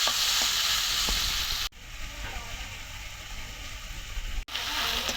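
Onions fry in hot oil for a mixed fish curry, a steady close sizzle with a faint clatter, the sound dropping in level partway through, with no talking.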